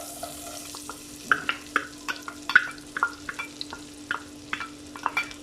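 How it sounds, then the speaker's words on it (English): Finely chopped onion frying in melted fat in a pan, a soft continuous sizzle broken by a series of sharp scraping stirs, close and clear with no talking. "We will just fry this onion until they turn translucent."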